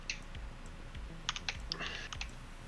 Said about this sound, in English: This is just me typing to you about the thing.